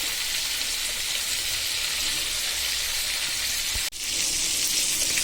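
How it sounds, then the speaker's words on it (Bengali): Tilapia fish pieces fry in hot oil in a pan, a continuous bright sizzle with one brief interruption near the end, no voices. "আমার মাছ ভাজা একদম শেষ"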